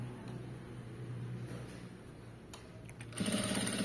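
Sewing machine stitching thread piping, a steady close motor hum that picks up louder and faster in the final second.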